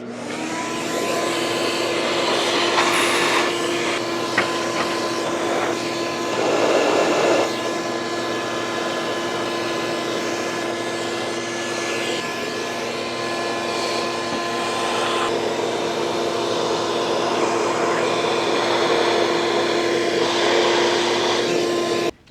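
A vacuum cleaner drones loud and steady, sucking dust out of a rusty bandsaw, with a constant whine and small shifts in tone as the nozzle moves around.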